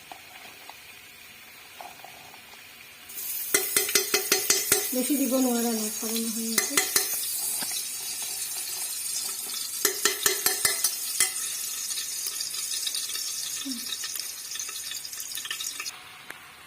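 Ghee sizzles in a heated pressure cooker while making pulao: a steady, fairly loud frying hiss with metallic clinks and stirring scrapes that sets in a few seconds in and runs to the end, while someone talks briefly.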